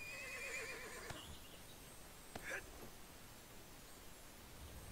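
A horse in the video game ArcheAge lets out a wavering whinny at the start, fairly quiet over a soft background hiss, followed by a couple of brief sharp clicks.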